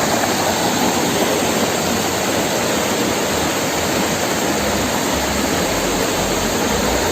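Seetharkundu waterfall in the Nelliyampathy hills near Kollengode pours over rocks in a loud, unbroken roaring rush of water that stays steady throughout.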